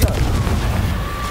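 Confringo blasting spell explosion in Hogwarts Legacy, a loud booming burst that hits at once and then rumbles and decays over about a second, with a voice faintly underneath.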